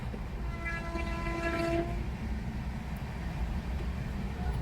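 A Pune to Latur passenger train rumbles steadily with a low, continuous roar, and a horn sounds briefly in the first two seconds before fading into the running noise.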